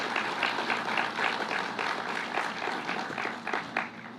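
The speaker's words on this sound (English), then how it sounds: "Let's give Karen a round of applause" An audience at a governor's bill-signing event applauds, a dense, continuous wash of many hands clapping that stays steady throughout and fades slightly at the end.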